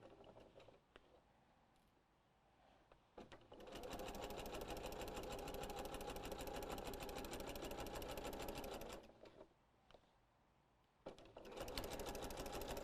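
A sewing machine stitches a rag quilt in rapid, even bursts: a short run, then a long steady run, a pause, and another burst at the end, all close and alone.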